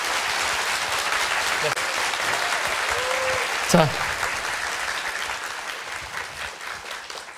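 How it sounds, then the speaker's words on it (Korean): An audience applauds Professor Hwang Nong-moon after a lecture on immersion, a steady wash of clapping throughout with a voice speaking over it near the start. "뜨거운 박수 부탁드릴게요."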